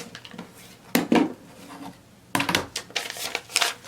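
Quilting fabric trimmed close up on a cutting surface: two distinct scraping, slicing bursts about a second and a half apart, with no voices.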